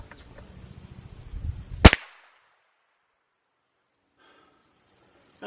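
A single sharp .22 caliber rifle shot fired at a padlock, loud and close, with handling noise before it and near silence after, then a faint stir at the end.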